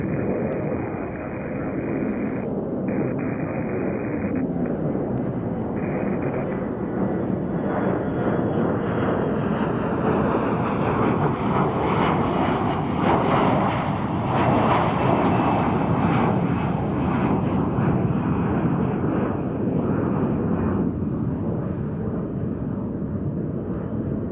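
A jet airliner departing Chicago O'Hare gives a sustained engine roar that builds to a peak in the middle and then eases off, with a rising whine over it and brief tonal beeps at the start.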